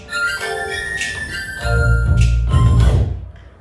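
A track triggered from a cue point on a DJ controller, heard as a short burst of music with bright tinkling tones and then a heavier bass-driven stretch that lasts about two seconds before cutting off.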